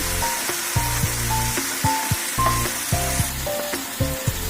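Spices and salt sizzle in a pan while being stirred, ahead of an ash gourd curry. A constant close frying hiss runs throughout, broken by regular scraping strokes of a spoon against the pan, and no one speaks.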